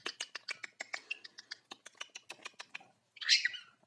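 A parrot gives a quick series of short, bright chirps in an even rhythm, followed by a brief, louder, rougher squawk near the end.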